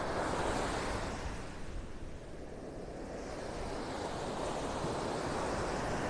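Gentle surf on a North Naples, Florida beach, a steady wash of small waves breaking on the shore with a quieter dip midway before the hiss builds again, mixed with light wind.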